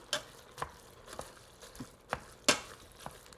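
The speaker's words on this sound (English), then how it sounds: "You know what I will get is this master little chopper thing." A handheld food chopper finely chopping ingredients for black bean chili, irregular sharp taps and clicks about every half second, close and fairly quiet with no talk.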